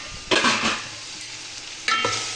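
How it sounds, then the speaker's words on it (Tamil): Onions frying in a pot until golden for biryani, with two short bursts of loud sizzling and stirring over a quieter steady crackle, no voices. "வெங்காயம் நல்லா கோல்டு கலரில் வரணும்"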